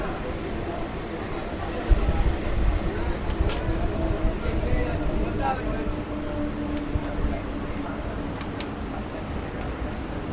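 A Howrah-Bardhaman chord local train rolls into Shibaichandi station, a steady rumble of wheels and carriages heard from inside with occasional high squeals and clanks, and voices faintly mixed in.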